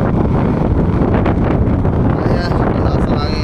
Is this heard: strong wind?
yes